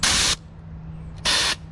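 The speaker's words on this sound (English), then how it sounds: "I spray right in these crevices." Two sharp bursts of compressed air hiss from a narrow needle nozzle into the sensor crevices of a robot vacuum, each about a third of a second, separated by a quiet pause with a low steady hum.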